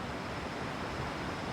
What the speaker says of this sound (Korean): 물소리가 굉장히 시원하게 들리죠.